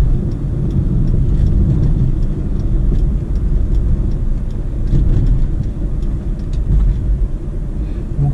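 A car driving over a pothole-filled stretch of road gives a steady loud low rumble inside the cabin, with repeated brief clicks and knocks of an annoying creak scattered throughout.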